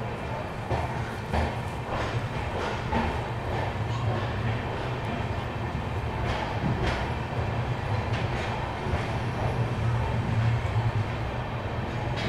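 An Intercity Express train with LHB coaches departs KSR Bengaluru City railway station, a continuous rumbling roll with faint rhythmic clatter of wheels, heard from inside with voices murmuring in the background.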